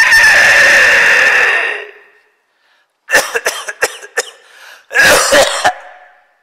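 An older adult's long rough exhale followed after a pause by a burst of several harsh coughs, then another cluster of loud coughs close to the microphone, during a breathing exercise for weak lungs.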